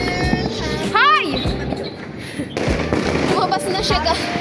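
Fireworks going off outdoors on New Year's Eve, with pops and bursts over a dense mix of voices and a rising whistle, loud and close and continuous throughout.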